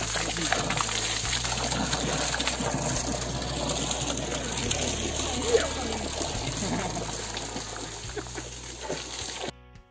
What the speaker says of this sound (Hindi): ये है पानी का स्रोत और काफ़ी तेज मात्रा में यहाँ पर पानी आता हुआ